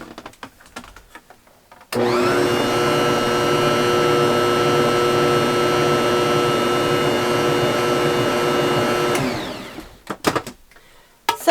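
A Bosch stand mixer with its cover on whirs steadily for about seven seconds while mixing powdered sugar for a cake, a loud close motor hum that starts abruptly and winds down, with faint kitchen clatter before and after.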